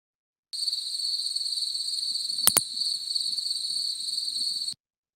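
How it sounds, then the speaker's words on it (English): A pallid bat's echolocation picked up on a bat detector gives one sharp double click midway, standing out over a steady high insect-like drone and faint crackle. "There's just one little double click in the middle of that little sound bite, and that was a pallid bat"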